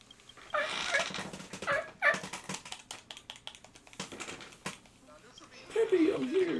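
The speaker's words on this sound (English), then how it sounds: "That's not Peppy, it's a dog." A video game dog barking and yelping in short bursts, mixed with game sounds and lively voices talking over it.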